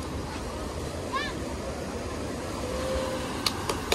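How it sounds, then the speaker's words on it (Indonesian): Big ocean waves surge at Ngobaran Beach in Gunung Kidul, Yogyakarta, a continuous rushing wash of surf with a few sharper bursts near the end. "Tapi yang ini gede, ombaknya gede."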